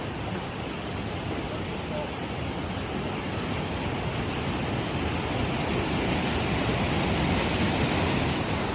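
River water rushing in a broad, steady roar, loud and close throughout and growing slightly louder toward the end.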